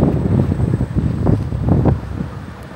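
Strong summer wind in Klaipėda, Lithuania buffeting an unshielded microphone, a steady loud rumbling roar with gusty swells throughout, no voices.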